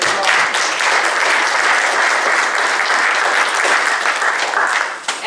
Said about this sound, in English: So let's give another round of applause for the volunteers.